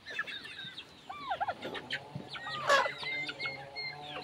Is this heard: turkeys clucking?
yes